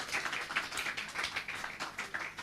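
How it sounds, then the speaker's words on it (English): A graduating class and audience at a 2019 academy commencement break into applause, a dense patter of many hands clapping at moderate distance, steady and unbroken. "I want you to give yourselves a round of applause."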